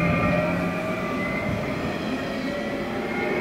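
Steady interior rumble of a Danish A4 commuter train with red doors riding along the rails, a continuous loud drone with faint tonal hum and no interruptions.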